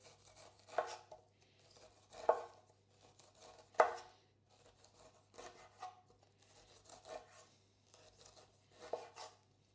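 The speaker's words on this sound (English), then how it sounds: "I'm just going to peel it." A knife peels a pineapple in a series of about seven rasping, scraping strokes, each a short burst spaced roughly a second apart, close but fairly quiet against a silent background.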